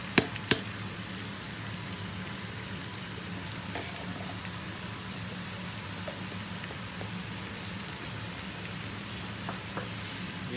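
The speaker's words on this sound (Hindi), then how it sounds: "तड़का हम इसमें डाल रहे हैं लहसुन अदरक की पेस्ट" Garlic ginger paste sizzles in hot oil for a tarka for masoor dal. The frying hiss is steady and continuous, with a couple of sharp clinks at the start and no speech.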